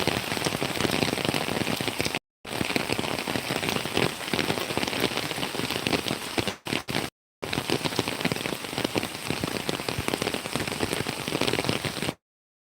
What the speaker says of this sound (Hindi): इंद्र देवता पूरी तरह हमारे गांव में प्रसन्न है और बारिश के मौसम पूरा बन गया है